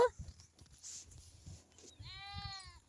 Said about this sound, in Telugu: ఎండలో పడుకొని మే మే నరుస్తున్నాయి